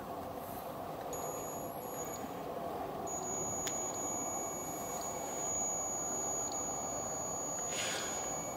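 A K2 EMF meter beeps in an abandoned factory, its high, thin tones coming in intermittent bursts over a steady broadband hiss and rumble.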